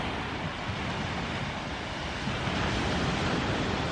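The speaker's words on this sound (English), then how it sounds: "And of course you have to say hello to the sea." Sea surf breaks along the shore at St Ives, Cornwall, in the evening, a continuous broad wash of wave noise mixed with some wind buffeting, steady and fairly loud throughout.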